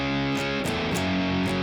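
A quick snatch of a song's verse on a heavily distorted electric guitar, with a few chugging power-chord strums in steady rhythm, played alone.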